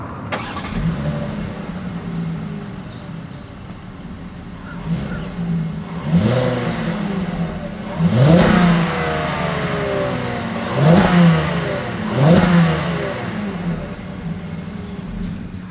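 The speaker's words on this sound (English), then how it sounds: "As always, here is that exhaust clip." A 2021 Volkswagen Atlas exhaust revs repeatedly, several sharp throttle blips rising and falling over a steady idle rumble, loud and close with no talking.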